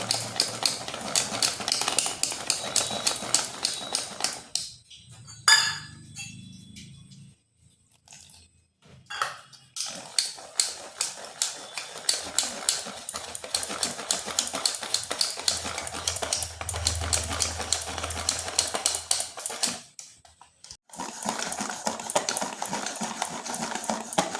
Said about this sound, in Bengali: এইভাবে কিন্তু বেশ কিছুক্ষণ ফেটাতে হবে।